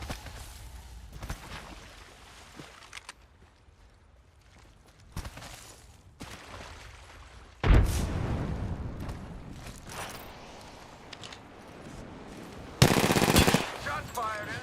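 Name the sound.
gunfire in a video game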